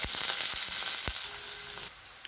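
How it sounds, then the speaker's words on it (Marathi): Finely chopped onion fries in hot oil with mustard seeds and cumin, a bright continuous sizzle with sharp popping crackles of seeds scattered through, easing slightly toward the end. "भांड्यामध्ये तेल टाकायचं, तेलामध्ये मोहरी, त्यानंतर जिरे, तिथं बारीक कट केलेला कांदा."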